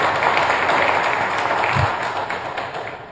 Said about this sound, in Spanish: Un aplauso para los jugadores,